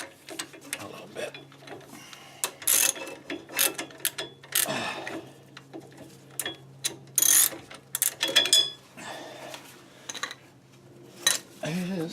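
Tightening bolts on a classic Ford Mustang 8-inch rear axle during installation, a run of clinking metal clicks and ratchet-like taps in irregular bursts, fairly close over a steady low hum.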